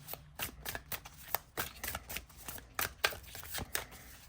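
Tarot cards from the Starlight Tarot deck are handled and drawn, giving quick papery flicks and soft slaps in an irregular rhythm, close but quiet.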